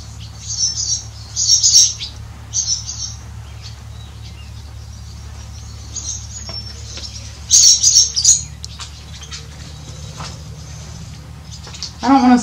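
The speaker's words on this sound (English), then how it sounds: "I don't want to spend too much time in here because of the birds." Birds chirp inside an old barn at the Randolph County Asylum, with short bright bursts of tweeting that come and go over a steady low hum, clearest near the start and again midway.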